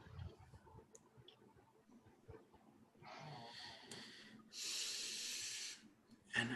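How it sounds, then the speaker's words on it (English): An old dog snoring indoors, with soft snorts early on followed by two long, breathy, hissing snores, fairly faint in an otherwise quiet room. "My dog is snoring."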